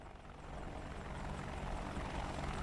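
Apache attack helicopter from a video game, its rotor thudding in a steady, loud whir that holds constant throughout with no voices.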